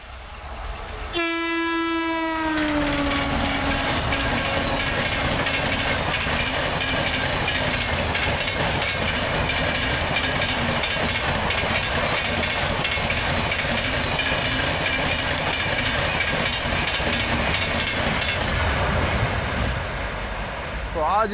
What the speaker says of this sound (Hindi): ट्रेन नंबर 12247 बांद्रा निज़ामुद्दीन युवा एक्सप्रेस, जिसे लीड करा था एक WAP4